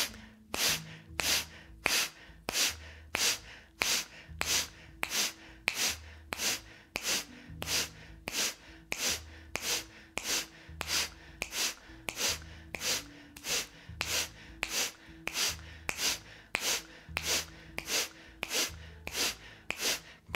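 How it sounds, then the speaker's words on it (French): Rapid, forceful nasal exhalations during a yoga breathing exercise, about one sharp puff per second, repeated steadily and evenly over a low steady backing tone. "expirez puissamment par les narines"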